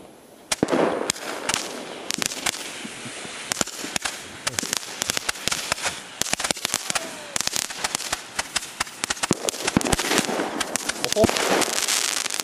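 New Year's Eve fireworks rockets launch and burst nearby in a dense, continuous barrage of sharp bangs and crackles, with people talking underneath.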